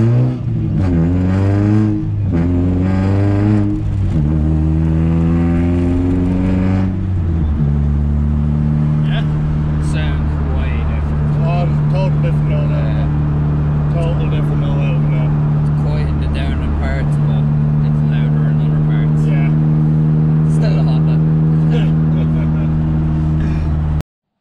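A Toyota Soarer JZZ30 engine revs loudly at first with rising and falling pitch, then settles into a steady, even idle that hums on for the rest, while someone talks over it.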